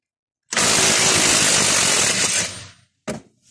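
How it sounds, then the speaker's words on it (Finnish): A pneumatic impact wrench works loose a car's tie rod end in a garage, one long loud burst of rattling hammering about two seconds long, cutting off abruptly, then a short second burst. "Katsotaan, lähteekö se tuolla pulttipyssyllä tuosta auki."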